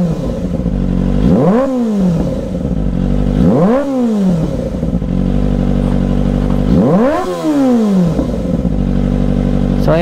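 A Kawasaki Ninja ZX-25R SE with its stock catalytic converter and mid pipe idles loudly up close, then is blipped three times, each rev rising sharply and falling back to a steady high-pitched idle.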